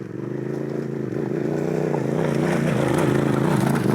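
Motorcycle climbing over loose rocks on a steep trail: a close, loud engine drone that builds steadily as the throttle rises, with a faint clatter of stones underneath.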